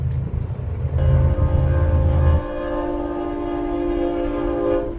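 A long freight train rumbles past on Route 66 between Barstow and Kingman with a tonal horn or whistle ringing over it, the low heavy rumble fading after a couple of seconds.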